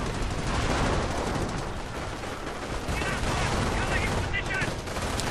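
Sustained machine-gun fire from an MG in a game battle, a dense continuous rattle of automatic bursts with explosive crackle, loud and steady throughout.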